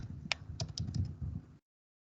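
Rapid, uneven clicking of keys on a computer keyboard, close and fairly quiet, with a short burst of typing that stops abruptly.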